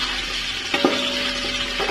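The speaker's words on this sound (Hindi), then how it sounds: "ऑयल मेरा गर्म हो चुका है, मैं इसमें लहसुन पेस्ट शामिल कर दूंगी" Garlic paste frying in hot oil gives a steady, close sizzling hiss with a few brief stirring clatters partway through.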